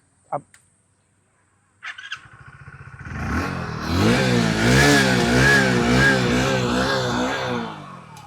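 A Hero HF Deluxe Pro motorcycle engine clicks, then cranks and starts, settling into a loud, steady idle with a throbbing rhythm up close.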